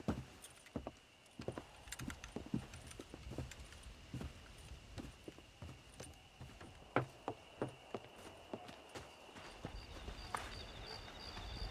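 Horse hooves clip-clopping on ground in the video game Red Dead Redemption, irregular close thuds and clacks at a slow walking pace, fairly quiet, with some faint jingling of tack.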